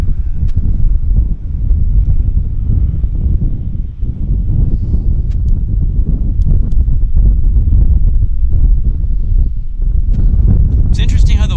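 Strong wind at Vancouver Airport buffets the microphone in a loud, continuous low roar that hardly lets up, and a person talks under the gusts.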